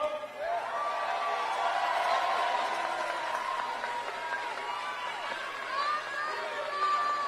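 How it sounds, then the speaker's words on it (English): A large crowd of Senator Sanders' supporters boos and shouts him down, a dense, continuous roar of many overlapping jeering voices with rising and falling cries, steady and loud throughout. "Senator Sanders goes out to talk to all his supporters, and they start booing him."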